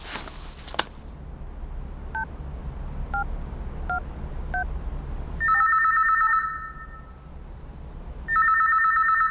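A few keypad tones are dialed, then a telephone rings in two loud electronic bursts separated by a short pause.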